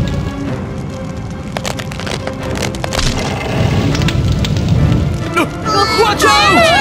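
A cartoon forest fire crackles and pops with dense snaps over a rumbling roar, while animated characters shout in alarm over it.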